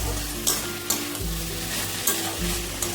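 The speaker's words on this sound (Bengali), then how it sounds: "এখন নামানোর আগে একটু আঁচটা বাড়িয়ে দিয়ে একটু নাড়াচাড়া করে দিন।" Banana flower curry with gobindobhog rice frying over raised heat while being stirred: a constant close sizzle punctuated by several sharp spatula scrapes against the pan.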